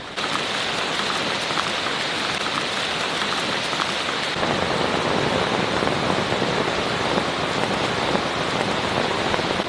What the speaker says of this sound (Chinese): 回到避火所又开始下雨啊！